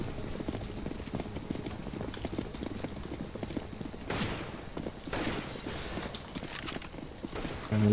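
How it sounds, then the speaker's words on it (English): Gunfire in CS:GO, a few sharp broadband bursts, around the middle and near the end, cutting through a steady busy game background. "Why are you shooting?"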